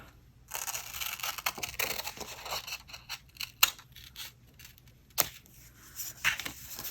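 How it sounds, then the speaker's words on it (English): Scissors cutting a triangle out of paper for a journal page: a close series of crisp snips and rustling paper crinkles in an irregular rhythm, with no voices. "take scissors and just cut out the triangle"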